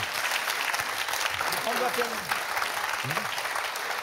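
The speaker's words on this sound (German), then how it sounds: "Applaus für Olli Welke" A studio audience at a German TV quiz show claps steadily in a thick, continuous round of applause while a voice talks over it near the middle.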